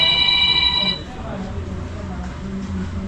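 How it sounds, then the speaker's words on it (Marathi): A phone rings with a bright electronic ringtone for about a second, then cuts off, leaving a low background murmur of voices and room noise. "मम्मीचा फोन आहे बघ."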